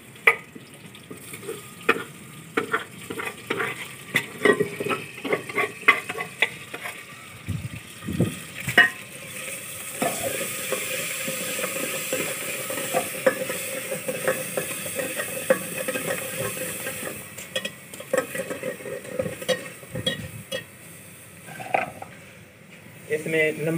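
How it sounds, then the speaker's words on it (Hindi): Spice tempering sizzling in hot oil for a chicken pumpkin soup, a steady frying hiss with intermittent clinks and stirring clatter of a pan, while a person talks over it. "इसको अब तड़का लगाएंगे। तो इसको डालते हैं।"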